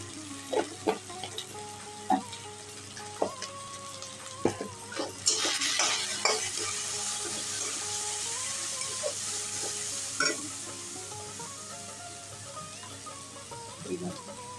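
Chicken with turmeric and cumin powder fries in a pan for chicken do pyaza, with sharp scraping stirs and clatter over a steady sizzle that swells louder midway, some faint voice in the background.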